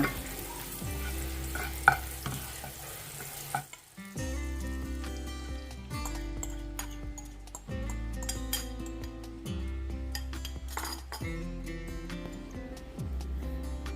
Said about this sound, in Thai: ใส่เนยพอเนยละลายแล้วเทไข่ลงไปนะคะ